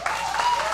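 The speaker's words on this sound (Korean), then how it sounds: "박수 한번 주시오." Brief applause from an outdoor beach concert audience, a dense wash of clapping heard under a tonal hum, with a voice briefly present.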